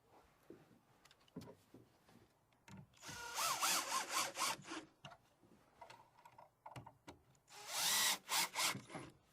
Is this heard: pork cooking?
no